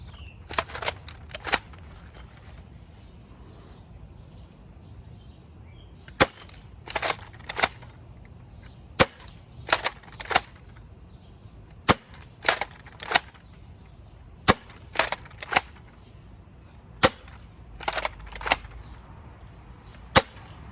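Adventure Force Dart Zone Nexus Pro blaster fired repeatedly outdoors past trees: about twenty sharp, snappy shots come in quick clusters of two to four with short pauses, crisp and close, over quiet ambient background.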